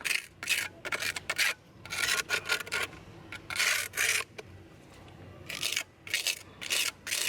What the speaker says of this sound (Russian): Все, замазываю их.